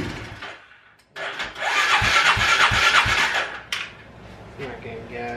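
A Polaris 500 engine with a suspected fuel pump fault cranks and catches, roaring up loud and close for a few seconds before easing off, with a rattly, uneven running tone.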